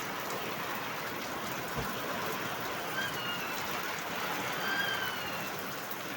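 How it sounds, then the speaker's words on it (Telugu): Heavy rain falls in a steady, dense hiss, an even wash of noise that holds for several seconds with no voices over it. "వర్షం అయితే బాగానే పడుతుంది ఈరోజు"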